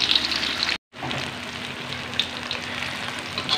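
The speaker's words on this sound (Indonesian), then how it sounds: "ini kita mari goreng sampai matang" Banana pieces fry in hot oil with a steady, close sizzle and bubbling crackle that drops out for a split second, then continues evenly.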